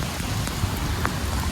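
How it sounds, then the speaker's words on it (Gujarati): Steady rain falls outdoors, a continuous close hiss of drops with broadband patter and no talk over it. "અમે છૂટા ને વરસાદ ચાલુ હો."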